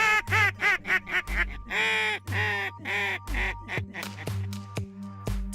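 Ducks quack during a late-season Texas duck hunt, a loud, close run of repeated raspy quacks in quick rhythmic bursts, then a few spaced, shorter calls.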